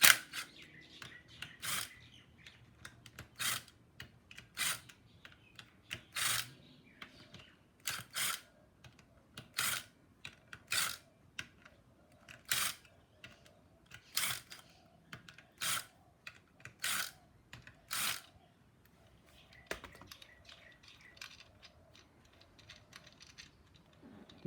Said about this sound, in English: Just uniformly loosen all the bolts,